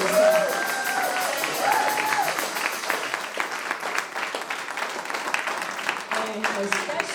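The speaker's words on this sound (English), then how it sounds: "Give them a round of applause for making this happen." Audience at an anniversary event breaks into sustained applause, dense steady clapping from a crowd with scattered cheers and voices mixed in.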